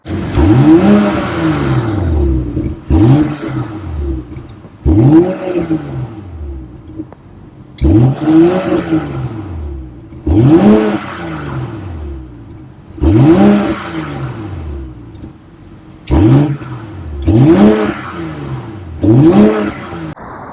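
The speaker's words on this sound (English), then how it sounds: "Hopefully we'll do a couple of revs and you can hopefully hear it." A BMW X5 Edition Black Vermillion engine revs hard again and again, exhaust loud, about ten bursts rising and falling in pitch, each followed by a brief drop back to idle.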